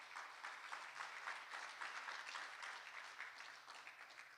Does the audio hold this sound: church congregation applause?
yes